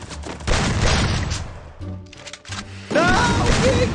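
Gunfire in the battle royale game Free Fire, loud bursts of shots and impacts that come in two heavy volleys with a brief lull between them, with no talk over them.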